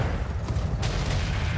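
Twin ultra autocannons fire in the BattleTech video game, a dense rapid burst of booming shots rolling continuously and loudly across the whole moment, with no talking.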